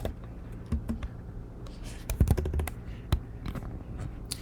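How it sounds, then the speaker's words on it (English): Close computer keyboard typing while a product title is entered into a Shopify store theme, with irregular light key taps and a denser cluster of sharper clacks midway, without voices. "So I'm going to type in"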